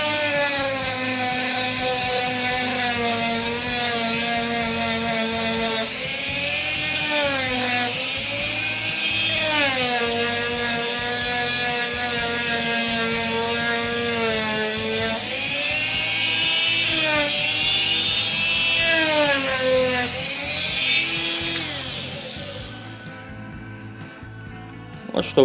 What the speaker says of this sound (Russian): берем насадку вот такую вот самодельную и полируем